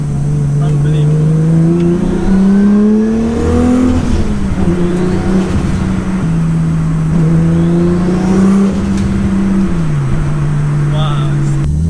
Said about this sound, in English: This car drives so smooth